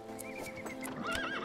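A horse neighs in the video game Hero of the Kingdom, a rising and falling whinny over clip-clopping hooves and steady game music, close and clear.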